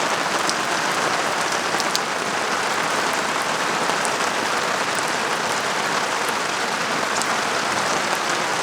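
Steady outdoor rain falls continuously and fairly loudly, a dense even patter of drops striking surfaces with occasional sharper splashes and no voices.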